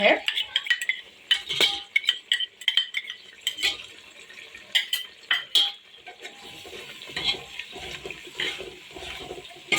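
Goat head curry frying with garlic-ginger paste while a metal spoon stirs it in the pan, giving irregular clinks and scrapes over a soft background hiss. The sound is close, with no speech.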